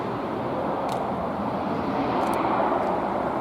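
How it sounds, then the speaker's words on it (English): A plane readies for takeoff at Belfast City Airport, heard from a retail park car park as a loud, steady broadband roar of jet engines, constant throughout with no voices. "And I hear a plane getting ready to take off from Belfast City Airport."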